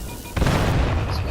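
A single loud, close grenade blast in Black Ops 7 multiplayer, a sudden heavy boom after a brief quieter moment, followed by a sustained rumbling roar of debris and noise.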